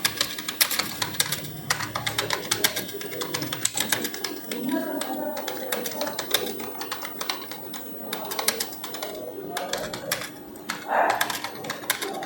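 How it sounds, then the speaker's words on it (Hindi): Rapid, irregular clicking of keys on a computer keyboard while practising typing on a Hindi typing test website, steady and close, with bird cooing faintly in the background. "अब यहाँ पर कर्सर हम रखते हैं और टाइप यहीं पर हम कर लेंगे"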